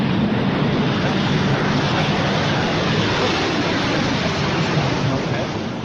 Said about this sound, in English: There's the B-47, the Stratojet.